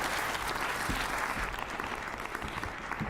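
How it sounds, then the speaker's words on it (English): A conference audience gives loud, dense, sustained applause as a speaker is welcomed onto the stage, with no break across the short burst. "give him a warm applause"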